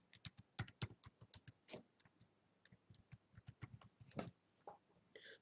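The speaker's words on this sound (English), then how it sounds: "So let me just type in password." Fingers type a login password on a Windows 7 computer keyboard in a quick, irregular run of close, crisp key clicks that pause briefly near the end. No voices.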